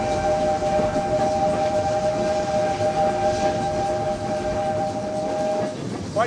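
A train rumbles loudly along the tracks while a long sustained whistle sounds over it, cutting off near the end.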